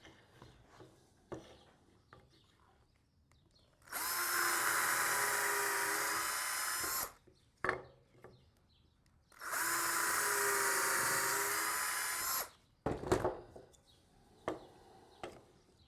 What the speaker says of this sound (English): I'm going to drill the holes for that.